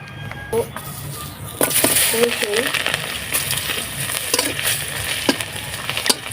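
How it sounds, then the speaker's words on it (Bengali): Dried red chilies fry in hot oil with a continuous broadband sizzle that grows louder after a brief stir, crackling steadily throughout. "এই একই তেলে আমি কয়েকটা শুকনো মরিচ ভাজবো।"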